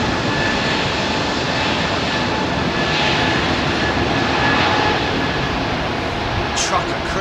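A jet approaches to land at London Heathrow Airport, its engines a loud, steady broadband roar that holds for several seconds. People talk underneath it.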